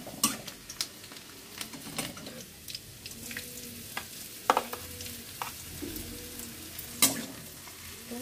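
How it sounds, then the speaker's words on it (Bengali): Onion greens sizzle softly in a pan while a utensil stirs and taps against it, giving scattered clicks and scrapes over a low, steady frying hiss. "এটা চাপিয়ে দিচ্ছি পেঁয়াজ শাক"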